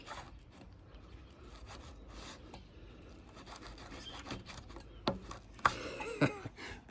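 A Jack Wolf Vampire Hunter knife saws through polypropylene rope fibers in quiet, steady rubbing strokes, ending in a few sharper snaps and scrapes as the last strands give way.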